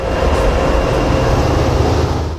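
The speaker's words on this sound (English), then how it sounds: "A westbound manifest pulls into town for a crew change with war bonnet number" A westbound manifest freight train led by warbonnet locomotive 4711 pulls into Ravenna, Nebraska, on the Sand Hills Subdivision. Its heavy, loud, steady rumble and roar of wheels fill the whole stretch without a break.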